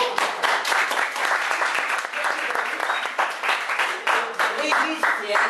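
Audience applause for a friend waiting backstage, dense, steady clapping from a crowd throughout, loud and close, with some voices mixed in.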